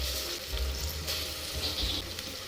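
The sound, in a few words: tomato added to fried onion in hot oil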